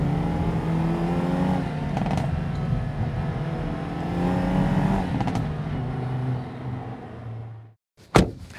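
A 2022 Hyundai Elantra N in N mode on a canyon road sends out a sustained engine note that rises and falls in pitch. It cuts off abruptly near the end, and a sharp click follows.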